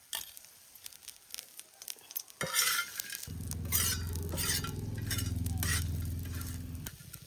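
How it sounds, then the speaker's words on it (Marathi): Masala spices roast in a little oil in a pan for a rohu fish curry, with light scraping and stirring that turns into a steady, loud sizzle for the last few seconds. "थंडा मसाला गरम मसाला भाजून घेतो हे तेल टाकतो थोडस भाज्यासाठी"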